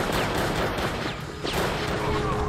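Gunfire in the video game Drake of the 99 Dragons: a dense, continuous barrage of shots with whizzing streaks, loud and close throughout, with a brief dip in the middle.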